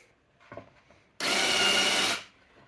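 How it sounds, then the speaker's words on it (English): Power drill boring deeper into a wooden longboard deck for a countersunk screw: a short, loud, dense whir of about one second, preceded by soft handling knocks and followed by quiet. "we need to drill a little bit deeper"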